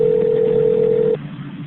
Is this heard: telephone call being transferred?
yes